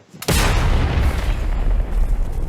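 A single heavy artillery blast booms close by, followed by a long, rolling rumble that fills the rest of the clip.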